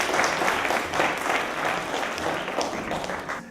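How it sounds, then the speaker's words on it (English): A crowd breaks into sustained applause and cheering at the end of a countdown, dense continuous clapping that stays loud throughout with no pauses. "I think we should give ourselves a huge cheer."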